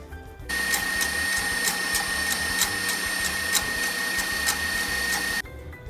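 An electric mixer whips egg whites, its motor whirring steadily at close range for about five seconds with faint rhythmic ticking, then cutting off abruptly.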